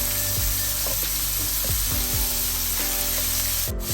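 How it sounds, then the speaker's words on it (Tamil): Chopped garlic and red onion sautéing in hot oil for an egg curry, a steady close sizzle broken by soft scraping stirs from a spoon in the pan. "பெரிய சிவத்த வெங்காயம் வந்து சின்ன சின்ன வெட்டி வச்சிருக்கிறேன். அதை சேர்க்கிறேன். இப்போ இது நல்லா வதங்கட்டும்."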